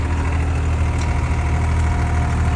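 A 4x4 tractor engine runs steadily with a deep low rumble and constant vibration, loud and close, on a trip through Ladakh.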